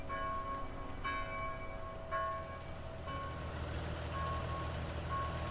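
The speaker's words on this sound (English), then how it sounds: "And church bells in the background." Church bells on a farming video game map toll about five times at roughly one-second intervals, moderately loud over a low engine-like rumble in the background.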